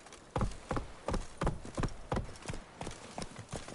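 Roach, the horse in The Witcher 3, trotting with a steady run of clip-clopping hoof beats, close and clear, about ten strikes in quick rhythm with no voices.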